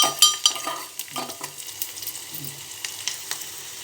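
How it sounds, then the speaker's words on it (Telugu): Black gram dal fries in a pan, giving a soft, quiet sizzle. Light scraping and clinking of a spoon stirring against the pan come in irregular bursts over it. "బాగా కాలిన తర్వాత చూడండి ఎట్లా కాలుతుందో"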